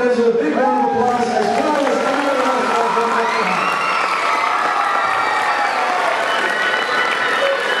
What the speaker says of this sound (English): Let's give these top five fundraisers a big round of applause.